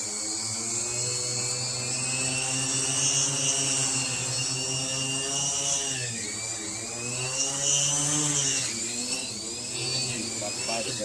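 A wooden drone's propeller motors buzz loudly and steadily in flight, the whine rising and dipping as the throttle shifts, with someone talking over it now and then.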